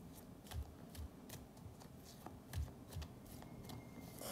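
A deck of tarot cards is cut and shuffled up close, giving soft riffling and a few distinct slaps at an uneven pace with no talk.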